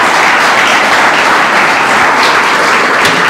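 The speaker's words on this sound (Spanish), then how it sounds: "Dale un aplauso al Señor Jesucristo." Sustained applause from a church congregation, loud and dense throughout with steady clapping and no break.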